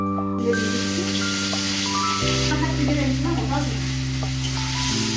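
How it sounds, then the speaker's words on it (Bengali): Ground ginger paste sizzles steadily in hot oil as a tempering base, with occasional stirring scrapes over a constant frying hiss and a faint tonal hum in the background. "এখন ভালো করে আমি ভেজে নিচ্ছি"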